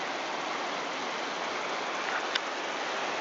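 Light rain falls outdoors in a humid setting, a soft, even hiss of drops that holds steady, with a couple of slightly sharper patters near the end.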